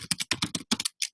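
Keys on a computer keyboard tapped in a quick, uneven burst of about ten clicks, close and clear, with no voices.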